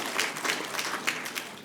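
Members of a legislative House applaud for a minister's address, making a short burst of dense, fairly loud clapping.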